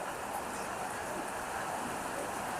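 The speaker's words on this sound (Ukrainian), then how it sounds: "Дощ припустився просто такий рясний, це ж тут залізом воно під навісі, воно гупотить страшне." Heavy rain drumming on a metal canopy, a dense, continuous hiss and patter that holds steady and fairly faint with no pause throughout.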